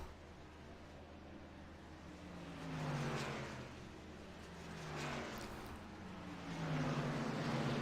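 A racing truck in iRacing at Iowa Speedway pulls out of its pit box after a four-tyre stop, its engine droning steadily with rising pitch sweeps as it accelerates away, set against constant background noise.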